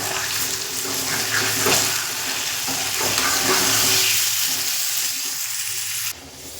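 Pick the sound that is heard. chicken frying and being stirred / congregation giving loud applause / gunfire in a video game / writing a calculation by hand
chicken frying and being stirred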